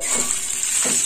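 Bitter gourd pieces fry in hot white oil in a kadai, making a steady bright hiss with a couple of soft low stirs or shifts in the pan; nobody talks.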